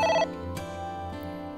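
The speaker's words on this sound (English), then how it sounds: "It's the phone." A telephone rings in the AI: The Somnium Files video game, a single bright electronic ring burst that cuts off quickly, followed by a low steady background hum.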